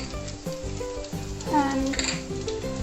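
Green chilies and garlic dropped into hot oil in a pan, giving a bright, crackling sizzle close by with some stirring, while background tones or voices sit faintly beneath.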